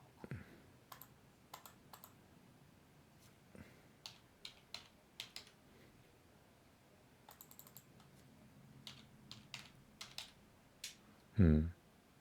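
Keys on a computer keyboard are tapped in scattered short bursts of sharp clicks, fairly close and quiet, with pauses between runs and a louder thump near the end.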